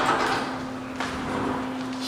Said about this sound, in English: Sliding doors on track, repaired.